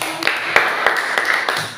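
A classroom group claps for a presentation, quick, close, uneven hand claps from a small crowd, sharp slaps standing out over a steady patter.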